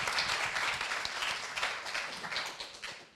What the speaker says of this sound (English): So I think that on its own deserves a round of applause.